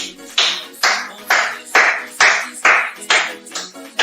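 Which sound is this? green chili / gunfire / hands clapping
hands clapping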